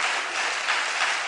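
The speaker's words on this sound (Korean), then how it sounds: "큰 박수로 환영해 주실까요?" A church congregation gives dense, steady applause to welcome a guest at a worship service, many hands clapping together evenly for about a second with no voices over it.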